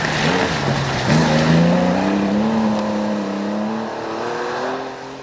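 A big 3-litre Porsche rally car at a historic rally, its engine droning loudly and steadily with rising and falling revs as it drives past close by, no voices over it.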